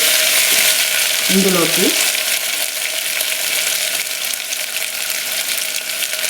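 Potato pieces for aloo kurma fry in hot oil with a steady, close sizzle, while a spoon scrapes and stirs them briefly early on; a voice speaks over the frying.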